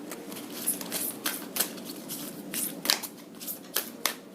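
Tarot cards shuffled by hand in a quiet room, a run of soft papery riffles and slaps repeating about every half second, close and fairly faint, with no talking.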